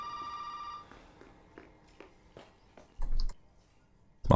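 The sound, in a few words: telephone ringing in video game Resident Evil 7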